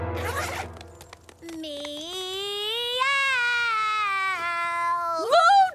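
A cartoon voice imitates a cat's meow in one long, drawn-out, wavering cry that rises at the end, preceded by a brief rustle.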